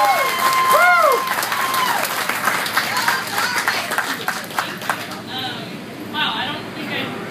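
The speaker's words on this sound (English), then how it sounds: "I want everybody to give a round of applause for Courtney Force" An audience applauds and cheers for drag racer Courtney Force at an event, a crowd's clapping rising loud and then thinning out, with speech and whoops mixed over it.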